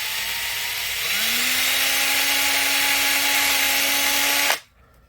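Power drill boring a starter hole for a screw in a pontoon steering arm, a loud steady whirring whine that rises in pitch as the motor spins up, holds for a few seconds, then cuts off abruptly.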